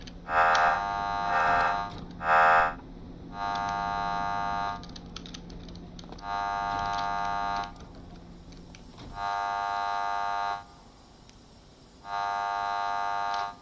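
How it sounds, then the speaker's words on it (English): A fire alarm in a reactor control room during startup buzzes in repeated loud harmonic blasts, a few quick ones first and then longer evenly spaced pulses, over a steady low hum that drops out partway through. "I'm going to go silence the fire alarms because its purposes are really annoying."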